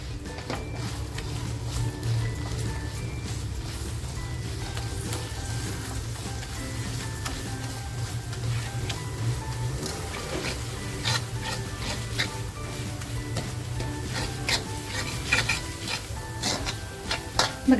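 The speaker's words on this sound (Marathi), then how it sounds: "मसाला आपल्याला आहे ना तेलात असा खमंग परतवून घ्यायचा आहे बघा कसा मसाला परतत चाललेला आहे" Ground masala paste sautéing in oil for black mutton curry, sizzling and frying steadily while a spoon stirs and scrapes the pan with frequent clicks, growing busier toward the end.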